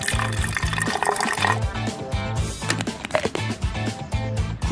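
Water pours and splashes steadily into a pet paw cleaner, a continuous liquid fill heard close up under light background music.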